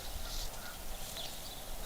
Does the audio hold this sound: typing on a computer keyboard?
no